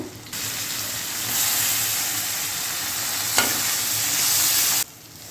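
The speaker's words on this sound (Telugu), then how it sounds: "ఇప్పుడు మనం కట్ చేసి ఉంచుకున్న టమాటాలు కూడా వేసేసుకుందాం" Chopped tomatoes dropped into a hot frying pan for a prawn and egg curry, giving a steady broadband sizzle with a brief sharp hiss partway through, close and fairly loud, no talking.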